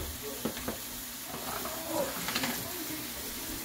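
Bitter melon sizzles in a pan while being sautéed, a steady frying hiss with a few clinks and stirring scrapes of a utensil and no talk.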